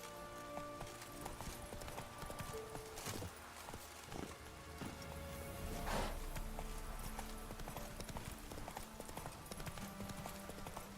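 Hooves of the horse Roach in The Witcher 3 clop steadily at a walk, faint and set under a constant bed of game music and ambience.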